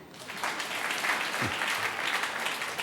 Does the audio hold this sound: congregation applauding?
yes